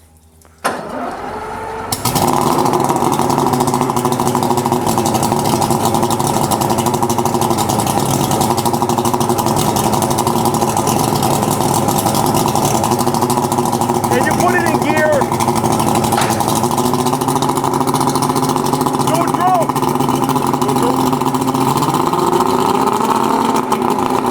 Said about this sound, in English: Starboard engine's gonna start up.